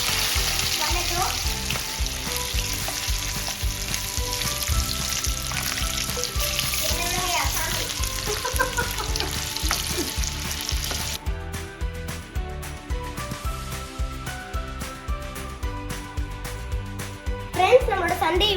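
Corn kernels frying in hot oil give a dense, steady sizzle with crackles up close, easing partway through, while people talk over it.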